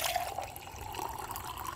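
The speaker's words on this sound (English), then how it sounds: "Look at the water that's coming out of our spigot here." Water running from an outdoor spigot at an RV campsite, a steady, soft splashing rush with light trickling, continuous and fairly faint.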